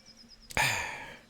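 A single sudden, forceful sneeze, in the video game Baldur's Gate 3, bursts out after a faint breath, then trails off over about half a second.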